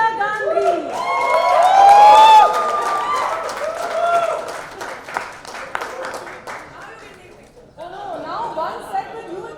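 Applause and cheering from a crowd at a Royal Stag Boombox launch event, welcoming an Indian playback singer, rising beneath an announcer's voice amid steady chatter.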